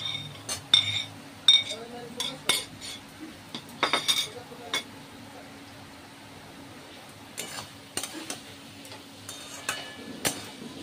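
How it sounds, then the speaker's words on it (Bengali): Potatoes added to a banana flower curry in a pan, with a series of sharp metallic clinks of a spoon against the pan at irregular intervals, close by, with a quieter stretch in the middle. "এবারে আলুগুলো একটু দিয়ে দেবো।"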